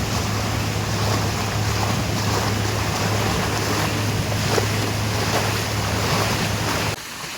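Loud, steady wash of waves and water noise with wind buffeting the microphone, a low engine hum running beneath until it cuts off near the end, as a motor boat moves across the water.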